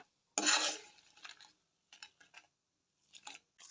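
Dry red chillies, about a hundred grams, are stirred and fried in a pan until they change colour, with one loud scraping clatter at the start and then a few lighter metallic scrapes and taps.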